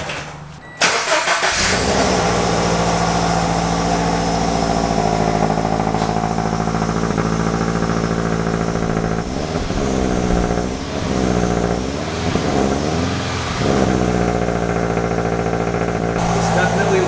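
A Scion FR-S fitted with a Tomei UEL header cranks and fires into a loud, steady idle that runs close by for the whole stretch, with a few wavering blips partway through and people talking over it.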